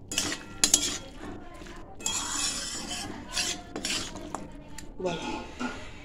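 Cooked cluster bean curry with potato and lentil dumplings scraped from a metal pan onto a plate, with clinking utensils, scraping strokes and a few sharp knocks close by, nobody talking.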